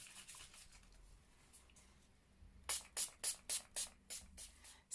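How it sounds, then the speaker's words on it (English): Several quick hissing bursts of Makeup Revolution Oil Control Setting Spray in a steady rhythm, close and fairly loud, following a quieter stretch of soft rustling. "I'm going to be using my Makeup Revolution Oil Control Setting Spray."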